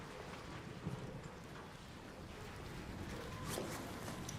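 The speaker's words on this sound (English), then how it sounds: "I hear a lot of rain." Steady rain in the video game ARC Raiders, a dense broadband hiss holding at a constant moderate level throughout with no voices.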